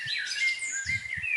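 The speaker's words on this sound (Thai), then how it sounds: "ลั่นเกิน เสียงนกในป่าเนี่ย" Bright, constant forest bird chirping and tweeting in the video game Ghost Shooting fills the background, with soft low thumps underneath.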